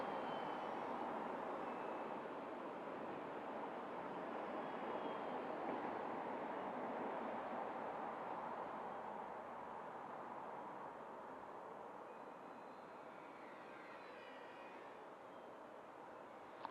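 A small V911S fixed-pitch RC helicopter flies at full speed, making a steady, even motor whine and rotor buzz that fades slightly toward the end, with no talking.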